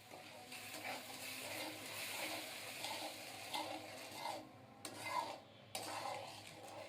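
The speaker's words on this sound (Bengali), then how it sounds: "এখন ভালোভাবে নাড়িয়ে চাড়িয়ে চিনিটা খুব ভালোভাবে গলিয়ে নেব" Sugar melting into milk in a pan for chana dal halwa, stirred continuously with soft scraping and a gentle bubbling hiss, close but fairly quiet, with a couple of brief pauses.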